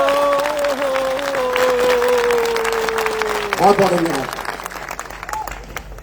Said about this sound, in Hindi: दिल खोल के ताली बजाइए